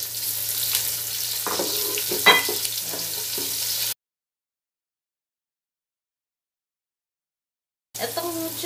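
Garlic and onion fry golden brown in a pan with a steady close sizzle and a few stirring clinks, cut by several seconds of silence before the frying returns.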